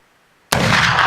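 A single loud, close gunshot from a light plinker load fired during an outdoor shooting session, a sharp crack that bursts out of near silence and rings on to the end.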